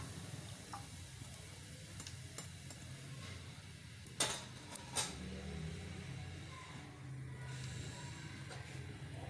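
Fried pakoras are lifted out of hot oil in a pan, a faint low sizzle running throughout with two sharp metallic clinks of the utensil against the pan midway and a few lighter taps.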